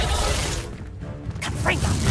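A Reducto spell blast in a Harry Potter video game lands as a dense, roaring crash. A brief dip follows, then a swishing, rumbling tail, with voices mixed in.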